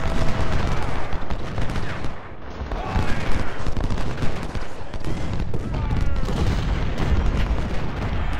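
Cannon and musket fire in a Civil War battle from the video game Ultimate General: Civil War, dense rolling booms and crackling volleys overlapping continuously at loud volume, with a voice briefly heard under the din.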